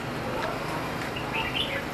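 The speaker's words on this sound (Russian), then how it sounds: "Птички." Small birds chirp in the green, marshy surroundings of a café near a market in Nha Trang, Vietnam, light tweets scattered over a steady wash of outdoor ambience.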